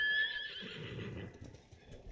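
A horse in the video game Ghost of Tsushima gives a short, close whinny with a few hoof clops, heard alone and clearly.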